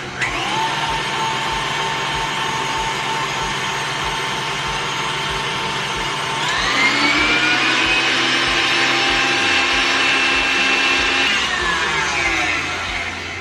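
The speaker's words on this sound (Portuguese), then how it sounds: "Então agora nós vamos botar aqui na velocidade 6 da minha batedeira e deixar bater." Electric stand mixer running at speed 6 while beating cake batter, a steady loud motor whine with a continuous tonal hum that shifts slightly in pitch partway through, no talking.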